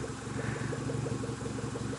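A custom motorcycle engine idling nearby with a steady, burbling pulse like a Ural, staying even in loudness throughout.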